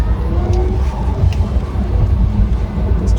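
A Rimac Nevera electric hypercar pulls forward on a public road with a loud, deep rumble of road and motor noise filling the cabin.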